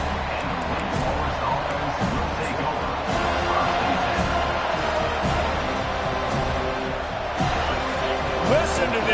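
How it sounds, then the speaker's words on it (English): A large stadium crowd roars steadily at a college football game, Wake Forest at Florida State, a dense wall of cheering with occasional surges while a commentator talks over it. "Listen to this crowd just shaking the girders of this place, trying to help their defense."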